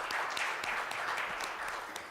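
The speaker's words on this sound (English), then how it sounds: "a big round of applause for him" Applause from an audience at a restaurant industry conference on delivery profits, a steady dense wash of many hands clapping at moderate volume, with no voices standing out.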